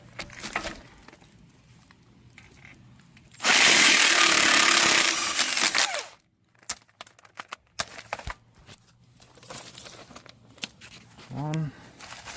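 An impact wrench spins off the 18 mm lower strut bolts on a 2015-2017 Ford Expedition during a front strut replacement. It gives one loud, sustained burst of about three seconds, followed by quieter clatter and some speech.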